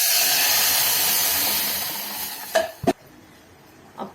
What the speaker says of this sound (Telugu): తాలింపు వేసుకుందామండి